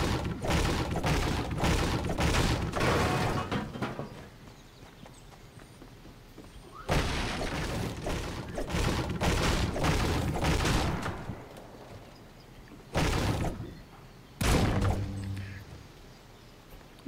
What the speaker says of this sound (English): I'm gonna destroy this house.